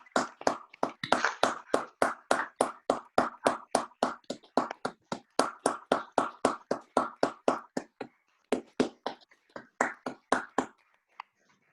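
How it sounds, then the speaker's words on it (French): Colleagues at a plenary session of the Haut-Rhin departmental council applaud in thanks, close and loud. The clapping falls into a steady, near-unison rhythm that thins and breaks up toward the end before stopping. "Alors, chers collègues, applaudissons-les en guise de remerciement."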